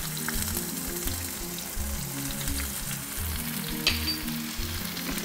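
Chicken stir fry sizzling steadily in a hot pan as it is stirred, a continuous close frying hiss with soft scraping pulses and no voices.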